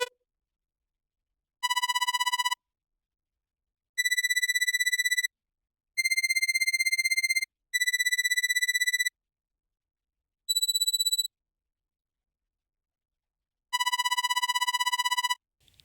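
High-tech user interface tones synthesized in Serum: a series of bright, pitched synthetic beeps of varying length separated by silences, clean and close with no voices.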